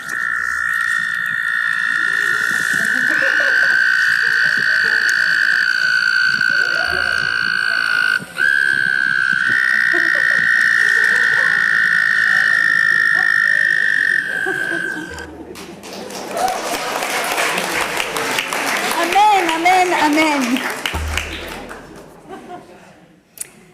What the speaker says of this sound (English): sent me a recording of the frogs singing Baruch Shem Kavod Malchuto